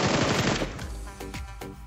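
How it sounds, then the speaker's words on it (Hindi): Rapid automatic gunfire in a multiplayer shooting video game: a dense loud burst of fast shots, then a few separated single reports and short bursts with no talk. "सामने वाली ट्रिपल स्टोरी से भी बंदा फायर कर रहा था"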